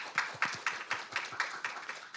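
A church congregation clapping for teachers: a steady, fairly slow run of about ten distinct claps, close and moderately loud, without other voices.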